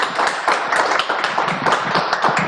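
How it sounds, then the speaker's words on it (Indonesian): An audience at a morning talk event claps together in a dense, steady burst of applause, close and fairly loud throughout. "Tepuk tangan semuanya."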